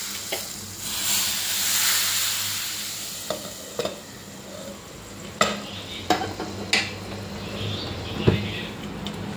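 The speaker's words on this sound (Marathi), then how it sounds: "जी उकळलेली भाजी आहे याच्यामध्ये आपण ही फोडणी ओतून घ्यायची आहे" A hot sizzle swells as tempering hits a pot of boiled spinach vegetable, then fades into sharp scraping and clinking from stirring.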